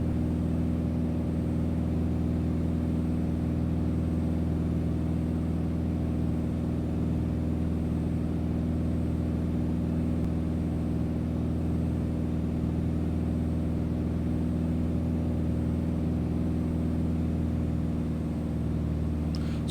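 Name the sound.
A2A Bonanza aircraft engine in P3D video game flight simulator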